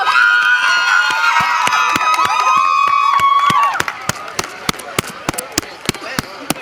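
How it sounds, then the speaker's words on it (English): Pharmacy college students cheer loudly at a fitness campaign run, overlapping high shouts and whoops for a few seconds before the cheering drops away, leaving scattered sharp claps and thumps in a quieter space. "Cheer for your classmates,"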